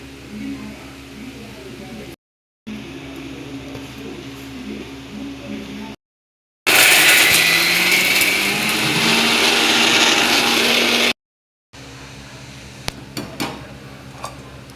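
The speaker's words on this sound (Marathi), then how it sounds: "आणि आता मसाला दळून घेते" A mixer grinder whirring loudly while grinding roasted masala for traditional pataud, a dense roaring burst of several seconds between quieter room stretches with a voice speaking.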